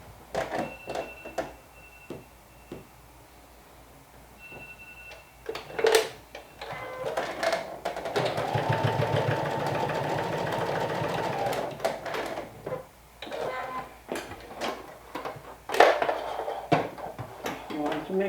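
A sewing machine runs a steady basting stitch along a dress seam for several seconds in the middle, with handling clicks and rustling fabric before and after; speech is also detected in the clip.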